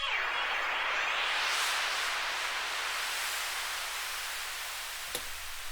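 Warp mode effect from a free VST plugin, a dense wash of bright noise that swells and sweeps downward, then slowly thins, with one sharp click near the end.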